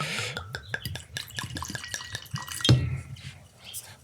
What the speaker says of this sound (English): I'm literally just going to pour the drink now.